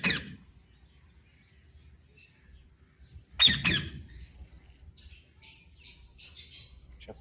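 Synthetic bird calls: two sharp squawks separated by near-silence, followed by a quick series of high chirps, fairly close and clear with no voices.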